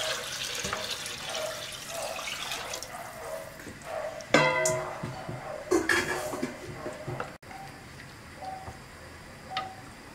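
Water poured into a pot for Peruvian seafood rice, a soft splashing and trickling with a few clinks of the pot, quiet and close.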